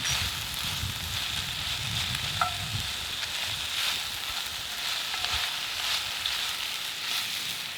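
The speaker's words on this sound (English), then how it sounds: "We're going to fry these until they're soft and start to brown." Sliced red onions fry in a pan over a campfire, giving a steady, moderately loud sizzle with a faint crackle running through it and no talking.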